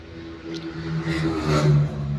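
A three-cylinder 2018-model tractor idles and revs up nearby at a tractor market, its engine humming with a steady low drone that swells briefly louder mid-way, with light clatter.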